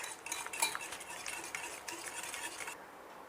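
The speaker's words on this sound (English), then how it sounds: "Once added all, let's give it a whisk properly." Wet cupcake batter with vanilla essence whisked in a bowl, a rapid run of light metallic clinks and scrapes from a whisk, close and fairly quiet, with no talk.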